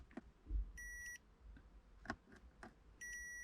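An electronic beep from a launch control activation button fitted in an Audi S2 car sounds twice as short, clear, high-pitched tones over faint background clicks and handling noises.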